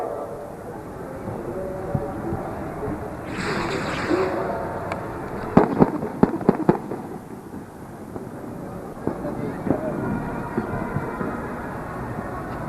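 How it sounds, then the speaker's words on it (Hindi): Fireworks crack and pop in a quick cluster at a fireworks competition amid a steady outdoor rumble, with a whooshing launch beforehand and scattered later bangs at a distance. "इस आतिशबाजी मुकाबले"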